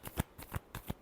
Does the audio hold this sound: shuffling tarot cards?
yes